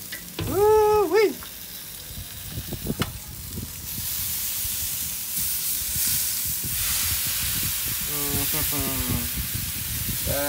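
Fajita meat searing on a grill gives a steady broadband sizzle with popping crackles, under a voice that whoops and talks over it at the start and again near the end.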